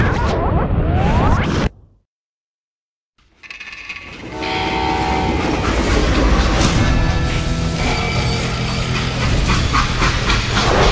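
A freight train in the video game Call of Juarez: Gunslinger rumbles and clatters loudly, cuts out briefly into silence, then returns with a sustained horn-like tone over heavy rolling rail noise.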